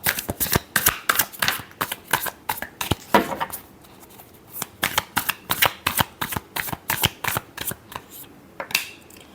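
A deck of tarot cards is shuffled in quick, crisp bursts of riffling and slapping, a steady rapid rhythm close up and loud with a brief pause midway, no talking.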